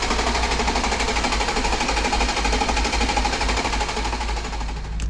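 An Audi S5 TDI engine cranking over to start, a loud continuous mechanical churn with rapid rhythmic pulsing that holds steady for several seconds close by, no voices.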